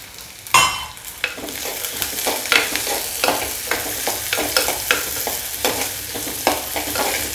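Garlic being sautéed with softened onions in a pan for a Tamil onion-garlic kara kuzhambu, with steady close sizzling and frequent sharp scraping stirs, no voices.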